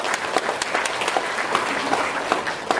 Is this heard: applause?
yes